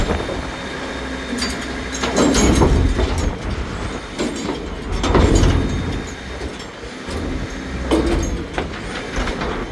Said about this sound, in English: I'm just trying to get this bin to properly fall off the truck.